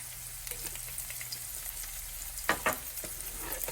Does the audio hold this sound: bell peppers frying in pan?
yes